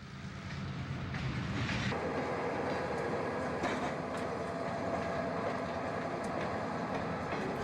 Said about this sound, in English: Switcher heads to an industrial siding as a Norfolk and Western job works the former Wabash